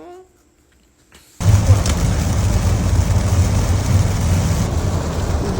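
Heavy rain pours down steadily outdoors, a dense, loud hiss that begins abruptly after a brief quiet moment and continues without a break.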